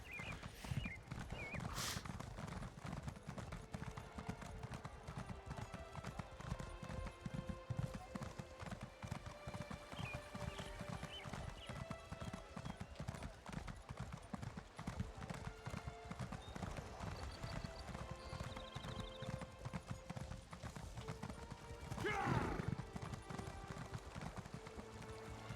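Horse hooves clip-clop steadily through a video game ride past a shrine and gate, a continuous close rhythmic patter with a brief neigh near the end.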